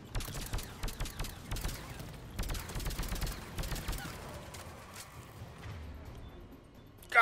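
Gunfire in Mass Effect Legendary Edition during a firefight: bursts of sharp shots in quick clusters, moderately loud and echoing, fading into a low rumble and background noise in the later seconds, with no talking.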